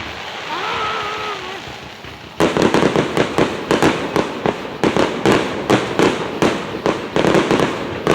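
An Independence Day fireworks display in Vian, Oklahoma, starting with a steady outdoor hiss and a rising whistle, then a rapid run of loud booms and crackling bursts in quick irregular succession.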